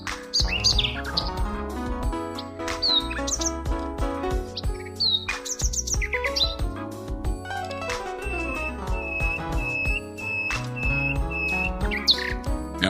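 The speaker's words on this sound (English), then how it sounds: "The singing of wild birds, one in a tree to the left chatted up with another in a tree to the right." Wild birds sing and call back and forth from trees on either side, bright chirps and twittering phrases over a dense layered chorus, with a steady high whistled trill running through the latter half at a campsite.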